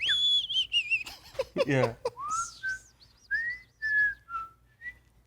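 A person whistles a string of short melodic notes, some sliding up or down, fairly close and clear with brief pauses between phrases, and a quick spoken word slips in.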